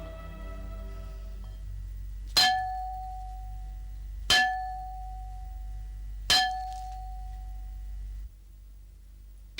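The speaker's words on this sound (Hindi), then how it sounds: "तो तुमने ये घंटा बजाया है?" A large bell is struck three times at even intervals about two seconds apart. Each loud metallic clang rings out and decays over a low steady hum, with no talking.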